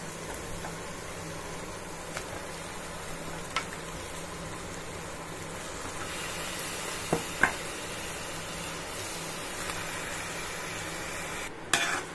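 Duck curry being stirred as it fries in oil in a home kitchen pan, a steady soft sizzle with a few light scrapes of the spoon, fairly faint and without talk.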